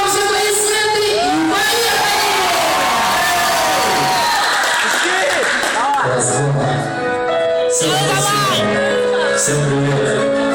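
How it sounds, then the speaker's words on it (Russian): An audience at a concert in the Mostovsky district claps and cheers loudly, with whoops over the crowd, as music with a steady bass line swells underneath and takes over in the second half. "выше руки, громче аплодисменты"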